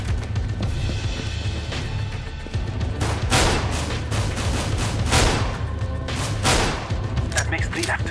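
Bursts of rifle fire on the Dust_2 map in CS:GO, several loud clustered volleys in the middle stretch over a steady low background hum, with a voice talking in between.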